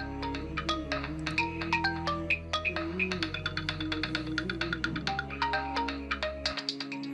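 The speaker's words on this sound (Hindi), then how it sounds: "भाई आपका मोबाइल बज रहा है," A mobile phone plays a melodic ringtone, a bright looping tune over sustained low tones, continuing steadily for several seconds with no one speaking.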